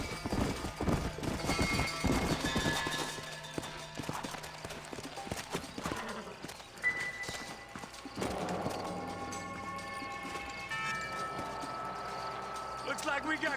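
Horses in the Red Dead Redemption video game clop along, hooves thudding in a quick rhythm at first and then slowing, mixed with game sounds and spoken dialogue.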